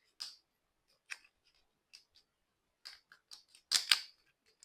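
Scissors snipping open the packaging of a card deck, a series of short, crisp cuts spaced irregularly in a quiet room, with a louder double cut near the end.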